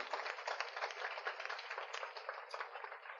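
An audience applauds event staff at a university seminar with a steady, even patter of many hands clapping throughout.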